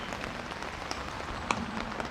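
Rain pattering on a tarp over a woodland campsite with a small fire pit, a soft steady hiss broken by scattered close drops, no voices.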